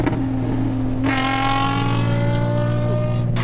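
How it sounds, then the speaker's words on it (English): A modified Nissan 350Z engine, with a steady drone that swells sharply at about one second into a loud, rising rev as the car accelerates close by, holding strong and harmonic-rich to the end with no talk. "your car sounds as good as mine, if not better"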